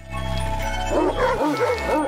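A dog in a video game barks and yelps in a quick burst of several sharp, close calls over a steady droning game soundtrack.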